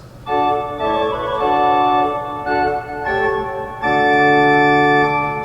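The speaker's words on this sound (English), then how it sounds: "Put together, the melodia and the flute di amor sound like this." Sustained pipe organ chords blending the wooden melodia and 4-foot flauto di amor stops, smooth and steady with several held changes, loud and alone with no voices.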